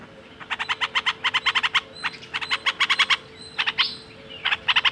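Bright, rapid bulbul chirps from birds nesting on a terrace, in quick repeated bursts, pausing briefly between phrases, close and clear over a low steady hum.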